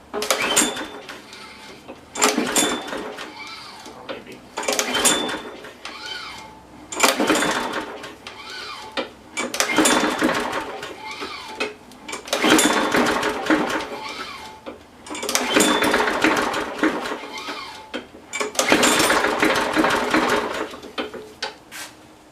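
A Briggs and Stratton small engine with a suspected stuck valve being pull-started, with repeated rasping pulls of the recoil cord close up, about eight strokes in a steady rhythm with brief gaps, and no engine catching.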